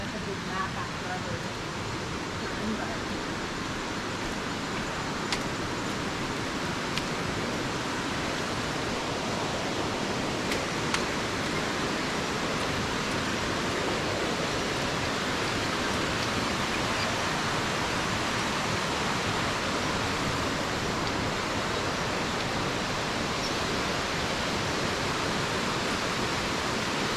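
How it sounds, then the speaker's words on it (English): A waterfall roars in a Costa Rican rainforest, a dense, steady rush that stays loud and unchanging throughout with no breaks. "Here's a waterfall."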